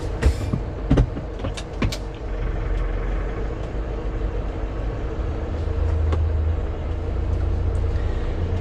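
A car climbs onto a bridge in a traffic jam, its steady low engine and road rumble running throughout, with a few sharp knocks and clicks in the first two seconds and no talking.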